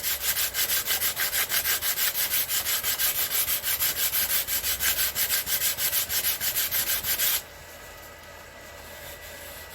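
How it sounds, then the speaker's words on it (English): Wet and dry sandpaper is rubbed back and forth over a Reliant Robin air scoop grill, producing close, rhythmic rasping strokes in a fast regular pattern that stop abruptly, leaving quieter background noise. "that's now dried, so I can start to rub this down"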